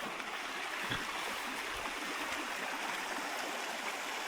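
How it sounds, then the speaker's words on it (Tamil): A small stream flows through a picnic area in the Blue Mountains with a constant, close rushing babble of water and no voices. "இந்த அழகாக குட்டி ஓடையும் இதுவும்."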